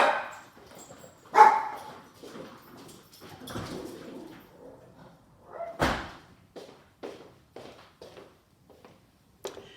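A dog barks a few times in short bursts, with a door thudding and scattered footsteps in a quiet room.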